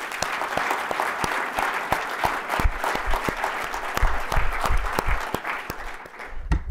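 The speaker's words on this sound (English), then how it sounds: "So a round of applause for them." A keynote audience at an innovation expo applauds presenters, a full, continuous round of clapping with sharp individual claps standing out, fading slightly toward the end.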